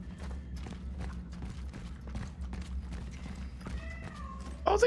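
A cat meows in the video game Cronos: The New Dawn, giving a brief, faint call late on over a low ambient hum with scattered footsteps and mechanical clicks.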